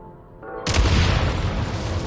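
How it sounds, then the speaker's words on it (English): Explosives detonate in Genshin Impact's Shadow Realm on PS5: a sudden loud boom strikes about a second in and spreads into a sustained, rumbling blast that stays loud to the end, with no voices. "Shoot the explosives to detonate them and clear the path."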